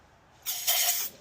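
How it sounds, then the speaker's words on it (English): Cleaner sprayed in quick hissing bursts into the brake area of a 2009 Honda CR-V during a brake pad replacement, two close spray blasts followed by a short third puff. "we're definitely gonna spray up in there, clean a little bit of that good"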